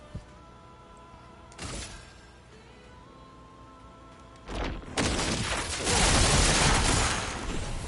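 Lune's gradient attack in Clair Obscur Expedition 33, a series of booming magical impacts and crashing bursts that build into a loud, sustained roaring wash of energy, close and intense.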